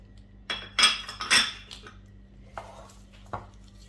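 A metal utensil stirs and scrapes fish sauce made with garlic and lemon juice in a bowl, giving a few sharp clinking scrapes up close, then softer taps after a pause.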